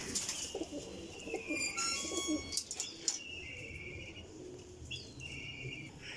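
A female Ferozpuri Teddy pigeon coos close by in soft repeated calls, mixed with other birds chirping and a faint flutter of wings, with no talking.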